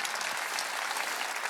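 A church congregation at a Wednesday worship service breaks into steady, dense applause that fills the room evenly from start to finish, with no talking over it.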